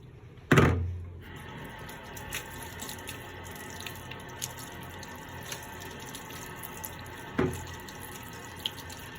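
Tap water pours into a sink while model plane parts are washed to strip release grease, opening with a loud gush that settles into a steady running hiss with faint clinks and a second brief splash.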